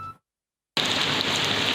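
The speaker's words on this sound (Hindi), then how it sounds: "थरपारकर में मानसून की मूसलाधार बारिशों से जल थलेक हो गया।" Heavy monsoon downpour in Tharparkar, a dense steady roar of rain that cuts in abruptly after a brief silence and stays loud and continuous.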